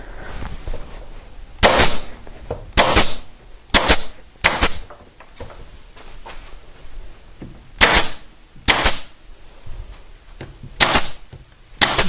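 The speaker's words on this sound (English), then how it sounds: "I see one spot where I need one more staple" An upholstery staple gun fires staples into a chaise, delivering sharp, loud snapping shots in irregular pairs and singles over a quiet background.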